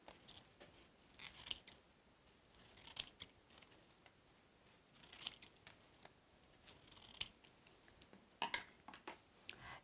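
Scissors snip through colored paper, repeated sharp cutting clicks and crisp paper rustle at an irregular pace, fairly quiet and close, with no one speaking.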